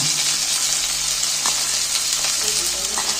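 Chopped cabbage stir-fried in a pan with onion and green chilli for momo filling, giving a loud, steady hiss and sizzle with a few scraping stirs.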